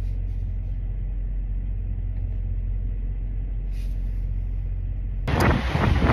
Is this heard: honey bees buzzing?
no